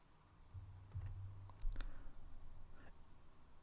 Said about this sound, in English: we can press the keys we want to use to run this command